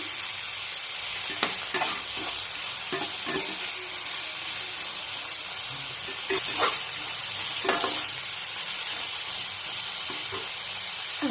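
Carrots, beans, capsicum and shredded cabbage for a spicy egg pasta stir-fry in a hot pan, a bright steady sizzle broken by repeated scraping strokes of a spatula, close and loud, with no voices.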